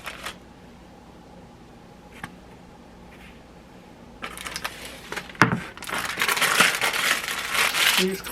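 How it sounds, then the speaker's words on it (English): Parchment paper sheets for an air fryer being handled: quiet rustles at first, then loud close crinkling and crumpling in the second half. "Parchment sheets. Sometimes I put it in my air fryer."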